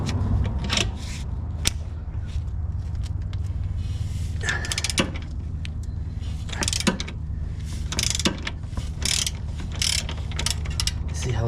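A hand ratchet clicks away at a stuck bolt on a BMW control arm, with quick bursts of sharp ratcheting clicks and pauses between strokes, close up.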